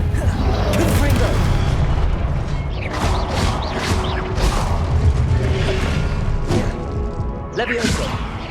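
A Confringo blasting spell in Hogwarts Legacy fires with repeated booming, crackling impacts and rumbling bursts spread across the clip, layered over busy game sound effects.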